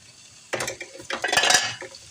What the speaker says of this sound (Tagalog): Mix nyo. It's called roux.